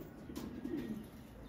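Racing pigeons give a soft, low, rolling coo, faint and close, a single brief murmuring phrase over quiet background hiss.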